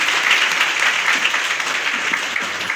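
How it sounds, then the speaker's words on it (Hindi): Audience at a business seminar bursts into steady, dense applause for nearly three seconds, loud and close, with no talk over it. "ताली बजा दीजिए"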